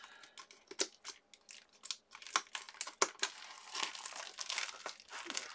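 A mail package is opened by hand, with close crinkling and crumpling of packaging in quick irregular bursts of rustles and crackles, no speech.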